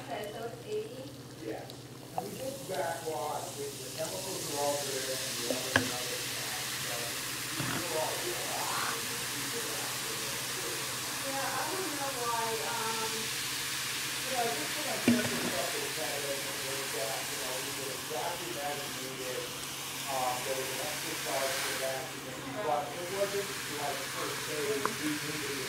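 Vinegar poured onto baking soda in a toy volcano fizzes in a steady, soft hiss that runs the whole time beneath voices talking, with a few faint knocks.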